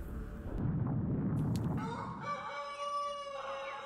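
A rooster crows once, loud and near, a harmonic cock-a-doodle-doo rising out of a rough noisy burst in the first half and holding its tones to the end.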